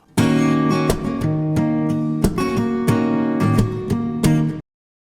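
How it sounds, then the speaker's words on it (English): Acoustic guitar strummed with a plectrum, firm chords broken up by sharp percussive accents from harder strokes in a steady rhythm, ending abruptly into silence. "Playing with the plectrum, just add harder strokes or also that percussive sound."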